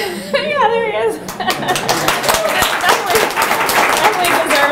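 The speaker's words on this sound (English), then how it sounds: "Definitely deserves a round of applause for that." An audience claps and laughs together, a dense burst of applause that swells after a brief moment of speech and continues steadily to the end.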